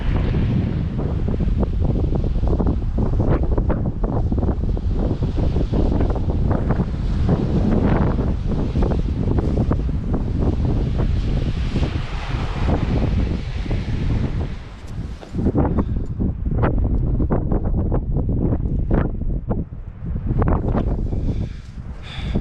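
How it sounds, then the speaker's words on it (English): Strong, cold wind roars steadily across the microphone outdoors near St. John's, Newfoundland, a loud continuous buffeting rumble with gusts and no speech. "It sure is windy, cold."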